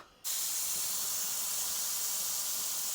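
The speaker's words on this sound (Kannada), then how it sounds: "ಮೂರು ವಿಷಲ್ಗೆ ಹೋಗಿದೆ ಇನ್ನೂ ಒಂದು ವಿಶಲ್ ನೋಡೋಣ" A pressure cooker cooking mutton sambar vents steam with a sudden, loud, steady hiss. The hiss starts abruptly and holds without a break to the end.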